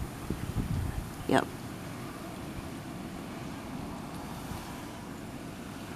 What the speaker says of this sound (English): But it is just windy.